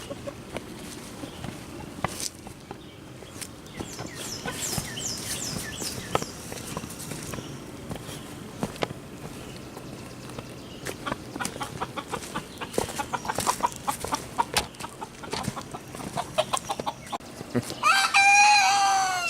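Chickens cluck steadily on a farm while footsteps shuffle nearby, and a rooster's loud crow rings out close at the end.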